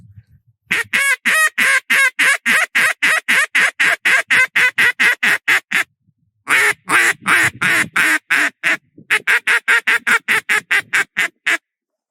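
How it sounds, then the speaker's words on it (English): Long rapid string of loud hail and comeback quacks from a DJ Duck Calls duck call, first a fast descending series, a pause, then quicker bursts of calling, close and unaccompanied. "Go through to your hail calls and comeback calls."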